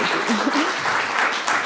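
Audience applause for a lecturer at a classics lecture, a steady wash of many hands clapping that fills the whole stretch, with a voice briefly heard near the start.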